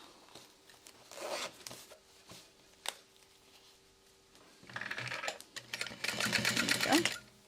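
Sewing machine stitching along a zipper, short bursts of rapid mechanical whirring with pauses between them, growing into a longer busier run near the end.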